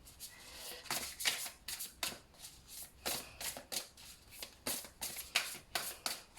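Guidance cards being shuffled by hand close up, a quick run of crisp riffling bursts in an uneven rhythm, alone with no talk over them.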